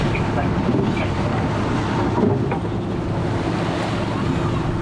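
Rough, choppy sea surges steadily near the Strait of Gibraltar, heard from a sailboat, with wind buffeting the microphone, a constant broadband wash of water and gusts throughout.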